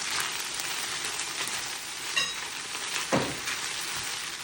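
Beef with garlic and ginger sizzles and crackles in a hot pan, a steady dense frying hiss with a couple of clinks and scraping stirs from a utensil partway through and no talking.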